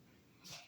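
A single quick sneeze, fairly faint, bursting out briefly over a low background hum.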